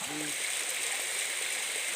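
Waterfall pouring at the foot of the falls, a steady broadband rush of falling water that is constant throughout, with a brief voice at the very start.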